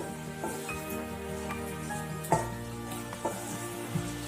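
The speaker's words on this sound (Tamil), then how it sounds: "அந்த பெருங்காயத்தை போட்டுக்குவோம். இது நல்லா பொரியட்டும்." Asafoetida sizzles gently in hot oil for tamarind rice, a soft steady crackle under a continuous background hum, punctuated by a few faint clinks and taps, with no talking.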